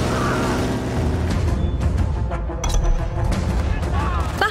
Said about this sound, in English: you can hear the booming and clacking of far-off weapons as they really would sound from a distance